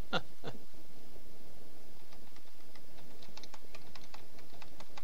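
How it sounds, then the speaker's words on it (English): A loud computer keyboard clatters with quick irregular keystrokes over quiet retro role-playing game background noise, close and alone without speech. "Man, I need to get a new keyboard. This thing is loud when there's not much in the way of noise happening."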